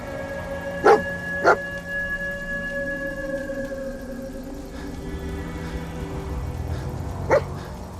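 A dog barks in the video game Fallout 4, three short sharp barks spaced apart over a steady ambient game soundscape with a low background hum.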